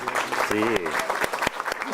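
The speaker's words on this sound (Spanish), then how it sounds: "Un aplauso, que se escuche." An audience at an academic history event in Mexico claps, with dense close applause running throughout while a voice speaks briefly over it.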